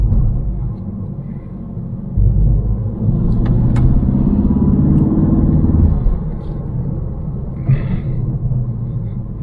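A 2022 Ford Focus ST Mk4 accelerates from inside the cabin, a low engine rumble rising in pitch through a few seconds of pull before settling back, loud and close.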